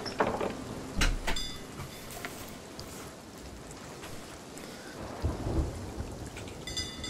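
A thunderstorm in the pirate video game Sea of Thieves, with a sharp lightning crack and booming thunder over steady rain, followed by a second rumbling thunder burst.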